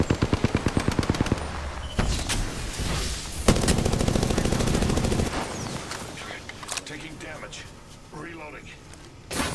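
Rapid automatic gunfire in the video game Apex Legends opens with a tight run of evenly spaced shots, then heavier bursts and scattered shots follow, with voices talking over the action.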